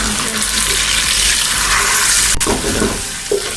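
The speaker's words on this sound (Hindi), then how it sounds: "अब मैं इसमें अदरक और लहसुन का पेस्ट ऐड करती हूँ। उसके बाद 2 मिनट के लिए भूनूंगी" A steady crackling sizzle of ginger-garlic paste frying in hot oil, close and continuous, with a brief clatter of stirring near the end.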